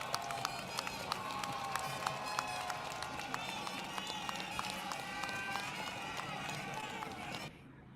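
Debate audience clapping in a hall during a Nigerian presidential race debate, a steady patter of many hands sustained for several seconds before stopping abruptly, with crowd noise underneath.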